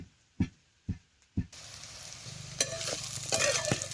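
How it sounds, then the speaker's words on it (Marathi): Tender young field green bean pods fry in hot oil with a steady crackling sizzle. A few sharp knocks come first, then the frying builds with stirring scrapes, close and fairly quiet, with no voices. "शेंग कशी तेलात भाजायला लागली बघा"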